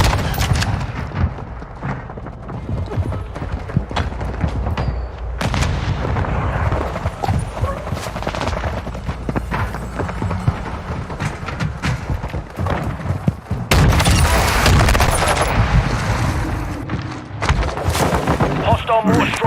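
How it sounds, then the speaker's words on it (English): Hostile mortar strike explosions in Modern Warfare II, with heavy booms and bursts of gunfire scattered through a chaotic battle, some blasts near and loud, with game voices talking over the din. "Hostile mortar strike in the area."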